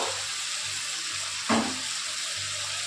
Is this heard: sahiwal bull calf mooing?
no